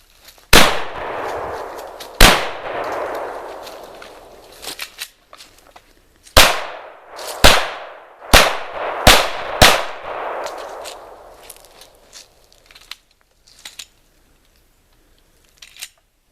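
TriStar Raptor A-TAC shotgun and pistol fired outdoors, about nine sharp loud reports in an uneven string, each ringing out briefly, with faint clatter afterward.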